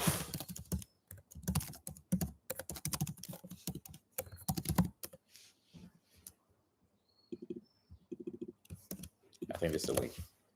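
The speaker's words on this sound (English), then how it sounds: "let me type the link for you" Bursts of quick keyboard clicks from typing on a computer during a live question-and-answer stream, close and fairly quiet, broken by pauses and mixed with someone talking.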